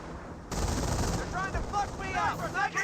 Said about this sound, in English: Sniper does find a second shot there onto the Grenadiers.